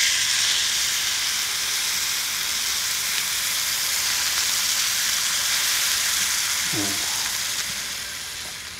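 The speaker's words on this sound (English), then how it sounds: "Now we're gonna drop in our steak." Steak searing in an oiled pan inside a Gozney Dome oven, giving a steady, loud sizzle with a hissing wash throughout and a brief low clunk near the end.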